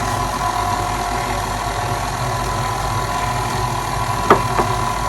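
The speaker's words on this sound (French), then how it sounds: "on va déjà mélanger les éléments secs en vitesse 1" A food processor running steadily at speed 1, mixing dry ingredients for cinnamon roll dough, giving a constant motor hum up close with a brief clunk near the end.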